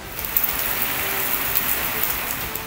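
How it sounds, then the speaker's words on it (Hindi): Rain falls in Karachi, a steady dense patter on surfaces with occasional louder drops, continuous and fairly loud, with no voices. "इस्लामाबाद रावलपिंडी में बारिश जारी।"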